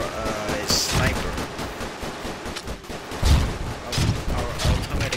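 Automatic sniper rifle in SQUADD.io gameplay fires a rapid string of sharp, close shots in uneven bursts, with clattering impacts and a faint voice under the gunfire.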